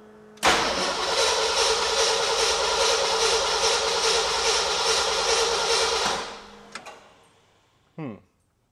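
A 1975 Ford F100 engine cranks and catches, then runs loud and steady close by for about six seconds before shutting off, leaving a couple of sharp clicks and a short rising squeal.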